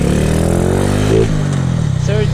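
A motorcycle engine with a 55mm big-bore refresh revs hard close by, a loud rising and falling drone with a sharp upward sweep midway, while someone talks over it.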